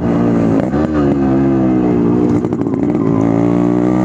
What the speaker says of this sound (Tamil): நம்ம பிராஸ்கோர் போட்டிருக்கிறதுனால இன்னுமே வந்து சைலன்சரோட பீட் வந்து சூப்பராக இருக்குது